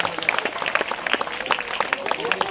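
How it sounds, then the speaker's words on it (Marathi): An audience claps warmly for a donor at a school cultural event, producing brisk, dense applause with voices mixed in. "तर त्यांच्यासाठी जोरदार टाळ्या"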